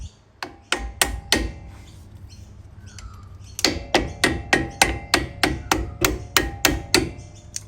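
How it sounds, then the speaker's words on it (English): A hammer taps a tight brake part into place during a brake job, a burst of four sharp knocks, a pause, then a steady run of about a dozen evenly spaced metallic taps, close and loud. "tapping it with a hammer is going to be a good thing"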